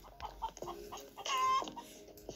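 Cartoonish chicken clucks from a Minecraft-style obby game, a few short clucks spread through the moment with a louder burst in the middle, alongside other soft game noises.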